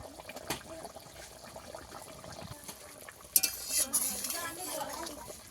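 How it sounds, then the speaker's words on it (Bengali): Pieces of glass carp fish, head first, are dropped into a pot of boiling Bengali-style fish curry, giving a brief splash and bubbling sizzle against soft pot and utensil clatter, with no one speaking. "ঝোল ভালো মতো ফুটে গেছে, মাছ দিয়ে দেবো।"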